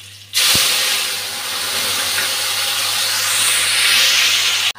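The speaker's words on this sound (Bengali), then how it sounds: "এখন গুলে রাখা মশলাটা দিয়ে দিচ্ছি।" Spice paste hits hot oil with chillies and five-spice in a pan, bursting into a loud, steady sizzle right after a brief knock, hissing strongly and close until the end.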